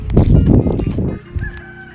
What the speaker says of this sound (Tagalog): Native na manok yan.